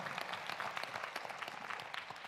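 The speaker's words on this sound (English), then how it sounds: "Really big clap for Ashwini ma'am for..." Audience applause at a personal development session, a dense wash of many hands clapping, faint and distant, steady throughout the short stretch.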